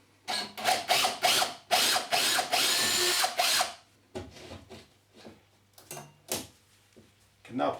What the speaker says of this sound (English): I can now drill the final fixing hole.